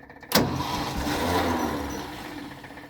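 A car engine gets cranked and catches with a sharp burst, then runs on with a rough, uneven idle that swells slightly and gradually settles over a few seconds.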